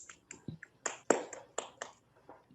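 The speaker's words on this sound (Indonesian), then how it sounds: "Beri tepuk tangan untuk Aidil dulu." A classroom of students gives a brief round of applause for a classmate, about a dozen scattered, uneven claps, faint and fairly close, with no voices.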